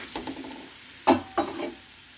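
Tomato pieces softening in a pan give a faint sizzle, broken by two or three sharp scrapes of a spoon stirring against the pan, with no talking.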